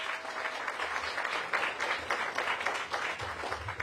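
Outdoor crowd at a groundbreaking event clapping for a ward council member, fairly faint and uneven patter of hands throughout with some low thumps.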